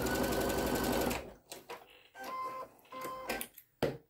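A sewing machine top stitches a seam on a fabric welding cap, first in one long fast whirring run, then in several short stop-start bursts, close and fairly quiet.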